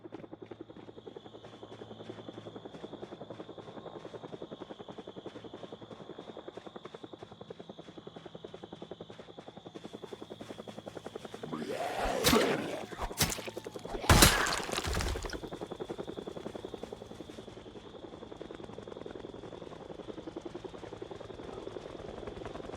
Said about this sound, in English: chopper's there